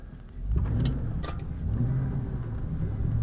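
A truck shifted into four-wheel low range drives with a steady, close engine hum that swells slightly as it pulls, with no talk.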